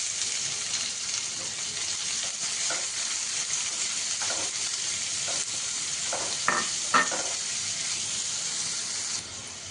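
Chopped onion hitting hot oil with minced ginger and garlic for Kerala chicken stew, a bright continuous sizzle with occasional spatula scrapes and stirs, close and steady, no voices.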